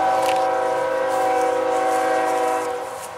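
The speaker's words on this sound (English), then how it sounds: "you can hear the train, another train coming" A train rolls past beside a rippling trout stream, a loud steady horn chord sustained for several seconds before easing off at the end.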